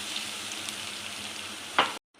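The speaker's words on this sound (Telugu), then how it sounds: "ఉల్లిపాయ మంచిగా ఫ్రై చేసుకోవాలండి, గోల్డెన్ బ్రౌన్ వచ్చే వరకు." Garlic and onion frying in a pan for pappu charu, a steady close sizzle throughout with a brief louder burst of spattering near the end before it cuts off.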